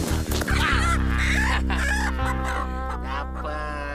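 A chicken clucks and squawks loudly at close range while being caught, with a dense, agitated stream of calls and rustling throughout.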